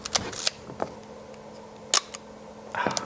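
A Leica camera fitted with a Leica 50mm f/1.4 lens fires its shutter about five times, each a crisp, close mechanical click in otherwise quiet surroundings.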